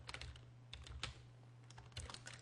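Quick, quiet clicks of typing on a computer keyboard come in short bursts with brief pauses over a low steady hum, close by and with no voices.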